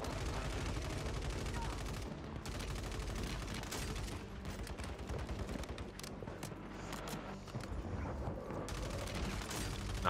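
Warzone video game gunfire crackles in rapid automatic bursts and fusillades, fairly faint and continuous, with occasional talk mixed in.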